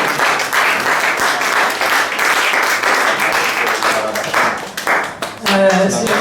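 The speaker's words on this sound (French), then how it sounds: "Acclamons très fort notre Seigneur." A church congregation applauding, dense sustained clapping from many hands that fills the space, with raised voices and cheers mixed in, briefly easing near the end before swelling again.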